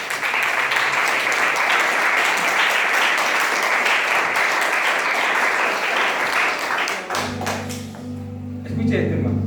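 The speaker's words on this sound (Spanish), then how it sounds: "Dale un aplauso a Jesús." A church congregation gives a loud, sustained round of applause for Jesus, with dense clapping filling the room before it thins out and a steady held musical tone takes over near the end.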